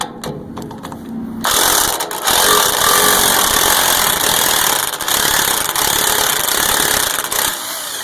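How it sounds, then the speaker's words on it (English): An impact wrench works under a Cumberland granulator used for chopping copper wire, with a loud, sustained mechanical whirr and rattle that starts abruptly after a quieter opening and runs continuously with brief dips, alone with no talk. "So we just take the impact wrench up under here."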